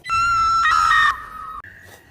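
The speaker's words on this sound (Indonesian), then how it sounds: "hingga teriakannya terdengar oleh John" A woman screams in agony in a horror film as she is tortured with her hands nailed down: one long, loud, piercing cry of over a second, then a shorter strained wail that fades.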